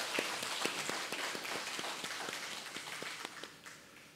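A church congregation at a Wednesday prayer service claps together in a fast, fairly even rhythm, the claps moderately distant and fading slightly toward the end.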